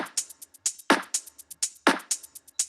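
A steady beat with crisp percussive hits, where some claps land as quick doubled strikes, recurring roughly once a second over hi-hat ticks.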